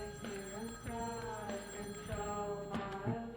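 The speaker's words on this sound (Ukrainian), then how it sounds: "Телефон телефонує? Дзвонить." A telephone rings in a repeated electronic tone over a low, steady background. The ringing is faint and continuous, with no voices.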